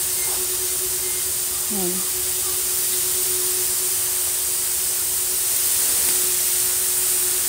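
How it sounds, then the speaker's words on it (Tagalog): An automatic water sprayer running on a monorail system over onion seedlings gives a steady, loud broadband hiss throughout, with a brief spoken word near the start. "Automatic water sprayer with monorail system."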